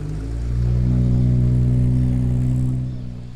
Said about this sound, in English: Absolutely lovely sounding XK120 on the way.